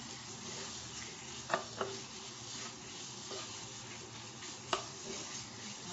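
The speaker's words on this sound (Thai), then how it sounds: "เอาหมูที่เราหมักลงไปเลยนะคะ" Marinated pork for homemade satay fries in coconut milk in a pan, giving a faint, steady hiss with a few soft clicks of a utensil. It is quiet and distant, with no one speaking.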